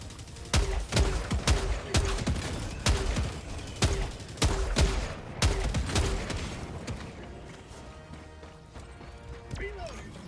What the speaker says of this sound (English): Yeah, the grenade launcher is still awesome.